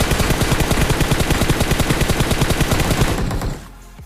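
Rapid automatic gunfire in a battle royale shooter rattles in a long, loud, steady burst of evenly spaced shots for over three seconds, then cuts off abruptly.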